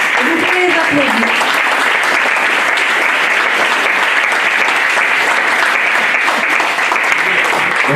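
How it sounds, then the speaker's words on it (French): Loud, dense applause from a large audience for the volunteer members of the PADRIM anti-cancer association, steady throughout and with some voices mixed in near the start. "Vous pouvez les applaudir."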